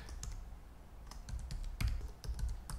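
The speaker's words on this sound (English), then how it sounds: "So I'm just gonna start typing" Fingers type on a computer keyboard while entering text in Adobe Premiere Pro 2020, a close, quiet run of irregular key clicks with a few firmer strokes.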